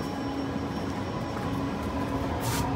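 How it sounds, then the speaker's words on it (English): A Sydney Metro train rumbles past at Central Station, a steady, loud roar of wheels and motors filling an underground platform, with a faint hiss rising near the end. "There goes the train at Central Station."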